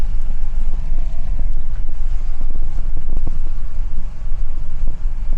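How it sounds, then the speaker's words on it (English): A Ford F450 pickup with the 6.7 high output engine drives along, its smooth low engine drone and road rumble steady and close throughout, with some wind noise. "This engine is really smooth. The high output's pretty dang smooth."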